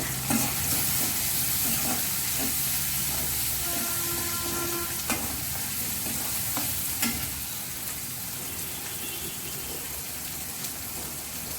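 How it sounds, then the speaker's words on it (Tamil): A mushroom pepper masala sizzles steadily in a pan, with continuous frying hiss and occasional stirring scrapes and clinks, close and even throughout. "வதங்கிக்கிட்டே இருக்கட்டும்"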